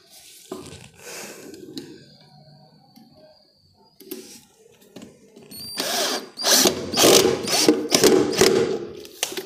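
A screw driven tight into a wooden drawer head while the head is fitted to the drawer: scattered ratcheting and tool clicks at first, then a loud run of grinding, rattling turns near the end.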